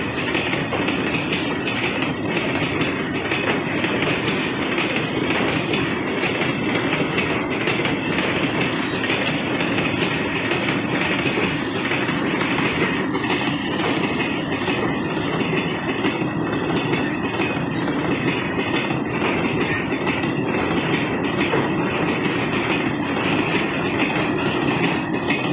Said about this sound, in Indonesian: Berpapasan sama kereta api Batubara Sukacinta teman-teman di stasiun Penimur.